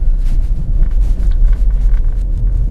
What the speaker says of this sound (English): let's see how the Mach-E does on our neighborhood bumpy road